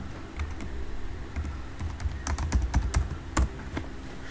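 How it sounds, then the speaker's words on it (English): Rapid, uneven keystrokes clatter on a computer keyboard during an online history lecture, with close, crisp clicks bunching into quick bursts and short pauses. "I am typing it down as well"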